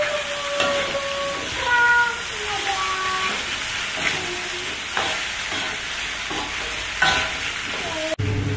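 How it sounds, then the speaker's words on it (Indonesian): Long beans, eggplant and cauliflower stir-frying with sautéed spices in a pan, a steady close sizzle with spatula stirring scrapes, while someone talks over it. "Oke, bumbunya udah selesai ditumis, sekarang kita mau masukin kacang panjang."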